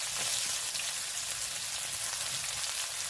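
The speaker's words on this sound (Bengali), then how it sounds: "রসুন দিয়ে ভালো করে নেড়ে একটু লাল করে ভেজে নেব" Chopped onion and crushed garlic frying in oil with panch phoron in a home kitchen pan, giving a steady, close sizzle with crackling pops that runs evenly throughout, no talking.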